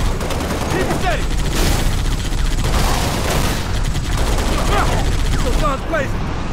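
Sustained gunfire fills a Halo Reach battle, dense overlapping bursts and heavy automatic fire rolling on without pause, with shouted voices in the mix.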